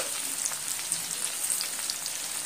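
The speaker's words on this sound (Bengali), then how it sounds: "কালো জিরে আর পেঁয়াজটা সুন্দর করে এখানে লাল লাল করে ভেজে নেব।" Onion and black cumin fry in hot oil as a steady, fine crackling sizzle, close and even, with small pops scattered through and no speech.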